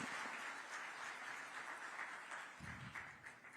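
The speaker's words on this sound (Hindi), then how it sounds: "आप सभी से निवेदन करता हूं कि जोरदार तालियों के साथ एक बार माननीय मुख्यमंत्री महोदय का आप स्वागत करें।" Steady crowd applause welcoming Chief Minister Vishnu Deo Sai at a NITI state workshop in Raipur, a continuous, fairly distant wash of clapping from a large hall audience that thins slightly toward the end.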